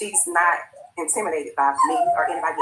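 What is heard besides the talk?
dog barking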